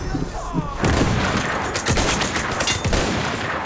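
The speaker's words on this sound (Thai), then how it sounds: "เราโดนเซนทรียิง" Sentry gunfire in the Battlefield 1 video game, a dense burst of rapid shots and crackling reports that keeps rattling after a short quieter opening.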